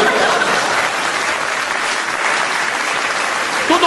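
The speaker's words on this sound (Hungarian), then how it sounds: "Tessék nyugodtan tapsolni!" Sustained audience applause at a Hungarian comedy stage show, a thick continuous wash of many hands clapping evenly throughout with no voice on top.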